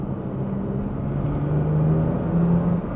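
A 1984 Alpina B6 2.8 BMW E30 with an M30 straight-six pulling through the mid-range while driving, a steady rising engine hum and rumble filling the cabin, no talk.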